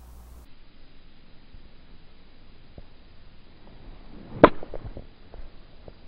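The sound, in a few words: golf half shot with an 8-iron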